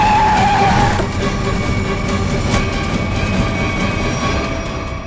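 A car skids hard to a stop, a loud tire screech opening the sound before fading into a sustained rumbling drone of the vehicle settling.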